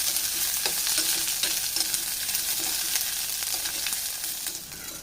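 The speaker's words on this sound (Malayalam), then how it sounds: "ഇനി ഞാൻ രണ്ട് പച്ചമുളക് ചേർത്ത് കൊടുക്കുന്നുണ്ട് ഇതൊന്ന് രണ്ട് മൂന്ന് മിനിറ്റ് നമുക്കിതൊന്ന് വഴക്കിയെടുക്കാം" Onions with green chillies sauté in a pan for a Kerala onion theeyal, a steady close sizzle running throughout with soft scraping strokes as they are stirred, no talk.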